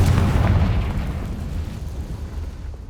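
A Confringo fire spell blast from the Hogwarts Legacy video game, a loud booming explosion that rolls on with a dense low rumble and slowly fades over a few seconds.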